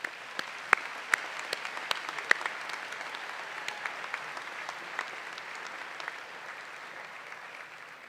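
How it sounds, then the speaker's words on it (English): A graduation ceremony audience applauds the class of 2026, a dense, sustained clapping crowd heard from a distance, with a few sharper claps standing out and the applause slowly thinning toward the end. "Round of applause for yourselves,"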